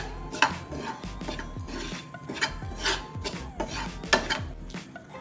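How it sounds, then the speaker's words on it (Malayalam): A metal spoon scrapes and stirs ground black pepper, turmeric and fennel powder dry-roasting in a pan for Kerala-style beef curry, giving repeated close rasping strokes in an uneven rhythm with no talk. "നന്നായി ഇതൊന്ന് നമുക്ക് വറുത്തെടുക്കാം."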